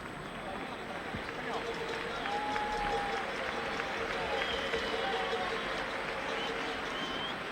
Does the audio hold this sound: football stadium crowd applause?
yes